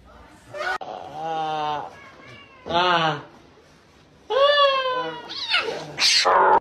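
A cat meows and yowls in several drawn-out, wavering cries close by, with pauses between them and a short sharper squeal near the end.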